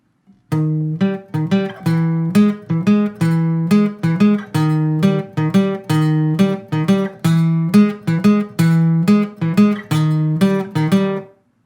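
A guitar riff played cleanly, with steady repeated picked notes and a looping rhythmic pattern throughout, close and clear with no talking.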